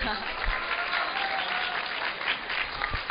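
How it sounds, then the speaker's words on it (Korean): An audience of middle school students bursts into dense, sustained applause for a fellow student at a school talk event, steady and full from start to finish. "박수 한번 주세요"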